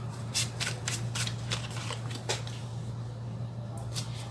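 Tarot cards being shuffled by hand in a series of quick riffling bursts, close and fairly loud over a steady low hum, with no speech.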